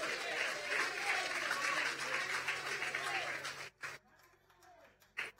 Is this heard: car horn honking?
no